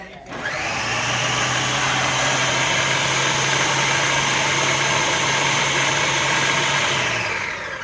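A food processor blends an egg with water and salt, its motor whirring loud and steady for about seven seconds before spinning down.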